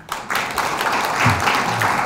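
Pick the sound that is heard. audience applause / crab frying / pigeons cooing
audience applause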